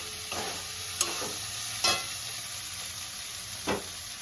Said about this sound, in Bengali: এখন একটু সময় খুব ভাজতে হবে ডালটাকে।